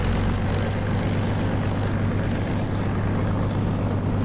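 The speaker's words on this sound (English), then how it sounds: "you cannot look away from the screen when you're taxiing in a Spitfire" Spitfire piston engine taxiing in the DCS flight simulator: a steady, loud propeller drone with a low harmonic hum, constant throughout with no voices.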